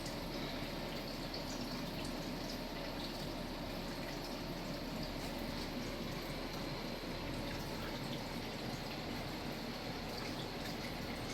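Creek water flows steadily outdoors by a garden of flowering plants, a constant broadband rush with no break across the whole stretch, moderately loud and with no one talking.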